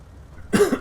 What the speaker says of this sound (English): Still dealing with the flu cough.